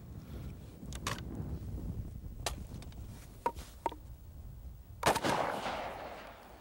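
A .308 (7.62x51 NATO) full metal jacket ball round being fired at a target, with several sharp, distant-sounding cracks spread over a few seconds and a stronger report near the end, over steady outdoor background noise.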